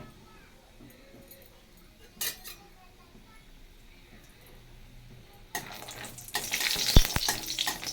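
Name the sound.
frying lentil dumplings (bori) in a pan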